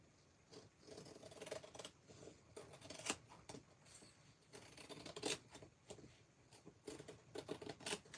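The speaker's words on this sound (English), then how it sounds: "let me trim this," Scissors trim paper inside a sketchbook with a series of quiet crisp snips and rustles at an uneven rhythm, close but faint, with no talking.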